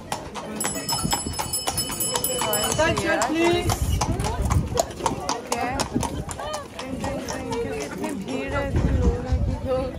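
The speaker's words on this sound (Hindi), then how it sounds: "और बहुत सारे घोड़े की सवारी भी हो रही है यहाँ पे।" Horse hooves clip-clop along a street in Bruges, where carriage horse rides pass through the old town, a steady close rhythm of hoof strikes running under continuous nearby talk and street noise.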